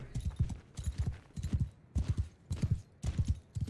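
Cavalry horses gallop in a Mount and Blade Bannerlord battle, their hooves pounding in steady bursts of clip-clop beats that repeat about every half second, loud and close with no talk over them.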